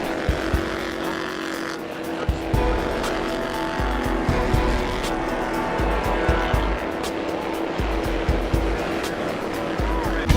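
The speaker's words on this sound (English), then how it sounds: "Cars with track speeds up to 70 miles per hour and typically driven by kids not old enough for a license." Bandolero race cars, youth-driven machines reaching about 70 mph, roar around the oval at Lake Erie Speedway in a continuous loud engine drone with tire squeal, as several cars stream past close by and sustain the sound throughout.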